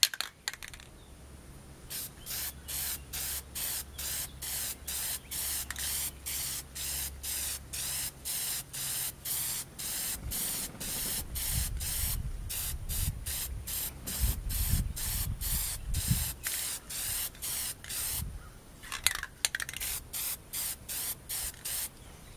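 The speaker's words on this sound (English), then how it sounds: "So you don't want to put it on too thick, but you want to put it on thin coats and let it dry, and then you'll have a thick layer of primer" Primer sprays from an aerosol can onto a dented truck bed in quick, rhythmic hissing bursts, close and steady, with a rattling pause near the end.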